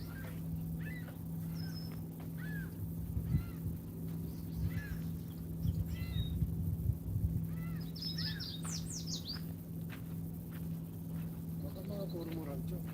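Repeated short gull calls ring out over a steady low engine hum at Tommy Thompson Park, Toronto, with faint voices nearby and scattered chirps across the stretch.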